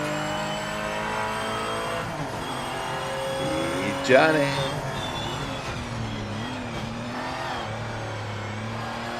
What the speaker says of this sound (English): It's right on my tail, that car.